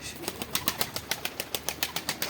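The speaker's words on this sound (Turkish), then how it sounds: "kuşlar uçuyor" Wings flap rapidly in a quick, even rhythm of soft beats as pigeons take off nearby, with no other sound.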